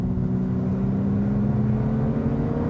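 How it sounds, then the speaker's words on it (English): Fake V6 engine noise played through the speakers of a 2019 Lexus UX 250h F-Sport in sport mode: a steady, droning hum with low tonal layers, constant level, synthetic and evenly sustained. "the worst of the worst in terms of fake engine noises"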